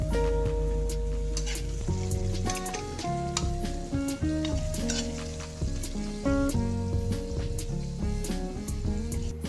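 Vegetables fry with turmeric in a pan, a continuous sizzle running beneath prominent background music with clicking stirring sounds scattered throughout.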